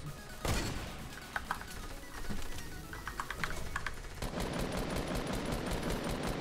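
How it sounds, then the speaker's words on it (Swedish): Rapid bursts of gunfire in the Fortnite video game hit and break down walls, with clattering volleys sounding in uneven clusters alongside a constant noisy game background. "det är någon som skjuter sönder väggarna här borta"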